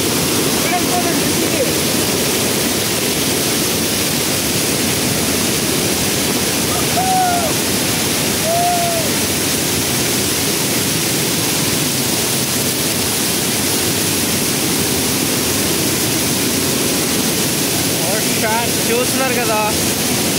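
Kothapalli waterfall swollen with rain floodwater, a loud, steady roar of rushing water filling the whole scene without pause, with faint bird chirps above it.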